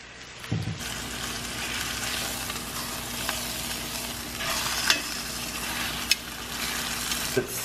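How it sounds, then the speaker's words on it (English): Meat sears in a pot beside celery and onion, a steady close sizzle with a low hum underneath and a few sharp clinks of a utensil against the pot, without talk. "It's seared nicely."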